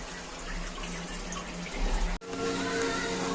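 Water drains steadily from freshly washed clothes, a continuous trickling and splashing like a running tap, with a brief cut near the end before the flow carries on.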